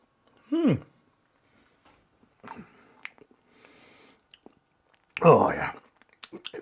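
Close-up chewing of pumpkin cheesecake with a crispy base, scattered wet bites and crunches coming in short bursts between pauses, with a brief voice at the start.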